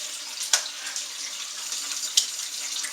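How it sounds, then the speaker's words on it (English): A kitchen tap runs steadily while buttery hands are washed under it, a close continuous hiss of flowing water with two brief sharp splashes or clinks. "Trying to wash the butter off my hands real quick."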